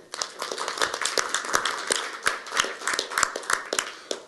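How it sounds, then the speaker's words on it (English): Applause from a modest audience at a university board of governors public session: scattered, uneven hand claps with distinct individual slaps, swelling and thinning in rhythm over a few seconds. "We can all applaud."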